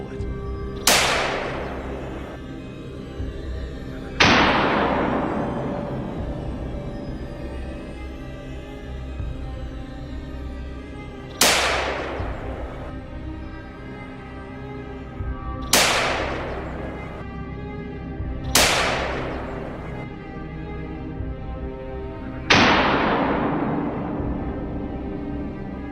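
Six sharp gunshots ring out at irregular intervals in open farmland during a wild boar hunt, each crack loud and close with a long echoing decay across the field.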